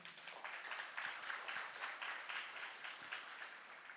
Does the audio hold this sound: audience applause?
yes